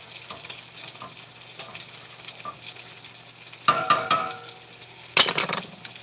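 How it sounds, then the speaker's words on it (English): Milk and grits bubble in a cooking pot with a steady sizzling simmer, broken by a few sharp metallic clinks and scrapes of a utensil against the pot. "But I let it start boiling down first a little bit"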